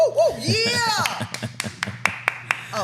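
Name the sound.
one person clapping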